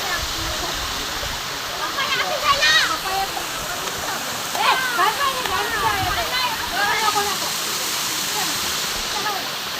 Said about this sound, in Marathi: खतरनाक धबधबा आहे बघा